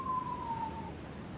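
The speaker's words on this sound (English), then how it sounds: "The siren was giving me a PTSD." A siren effect in the web3 strategy game Mane City gives a single falling wail, fairly faint and brief, over a low background rumble.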